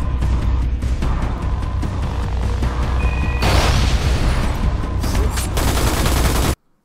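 AK-47 gunfire in a Spies vs Mercs video game trailer, loud sustained automatic bursts mixed with booming impacts and a dense battle din that cuts off abruptly.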